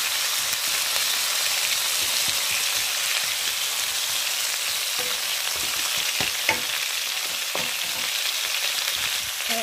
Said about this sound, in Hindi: मैंने थोड़ा तेल डाल दिया, थोड़ा राई दाना डाल दिया, थोड़ा डाल दिया मैंने इसमें, क्या बोलते हैं, धनिया।